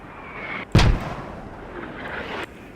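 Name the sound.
mortar strike in a video game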